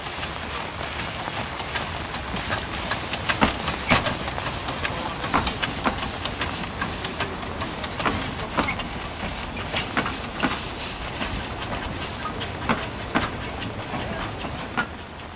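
A small Corpet 0-4-0 steam locomotive, No. 25 of the Baie de Somme railway, hisses and chuffs steadily with sharp, irregular clanks and clicks at a steam festival, fairly close, without voices.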